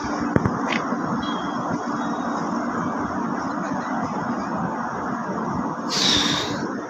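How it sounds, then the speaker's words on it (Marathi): A Bangalore-bound train from Mumbai pulls into a station, giving a steady, loud broadband rumble throughout, with a brief sharp clank near the start and a hissing swell toward the end. "मित्रांनो बँगलोर ट्रेन आलेली आहे आता"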